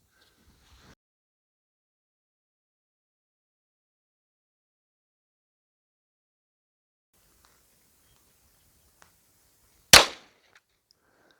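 A single 9mm Sig Sauer V-Crown round fires into a ballistic test block: one sharp, loud report near the end after a long stretch of near silence.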